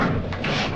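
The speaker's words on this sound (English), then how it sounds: "Doors closing." Lift doors closing in a shopping centre, a short loud sliding rumble with a muffled thud midway, heard close and alone.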